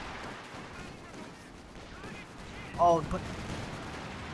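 Gunfire from a World War II tank and anti-tank gun battle in the strategy game Company of Heroes 2, a few faint shots under a commentator's continuous talking, with one brief sharper burst standing out.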